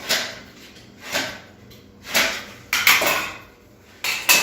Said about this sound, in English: we're going to line it up on our mark, and we're going to score it with a knife